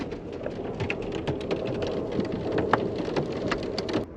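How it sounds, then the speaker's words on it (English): Hail hammers a moving Amtrak train during a storm, a dense, steady patter of sharp close impacts over a low rumble, with occasional louder individual strikes. "you can probably hear the hail now hitting"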